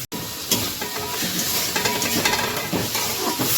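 Spice paste with salt and tomatoes being sautéed in a pan for a fish curry, giving a loud, steady sizzle and hiss with stirring scrapes throughout and no voices.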